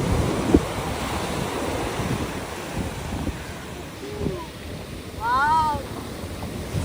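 Ocean waves wash onto a beach in Sri Lanka in a steady surf roar with wind buffeting the microphone, while a few faint voices and brief chirp-like sounds come through in the background.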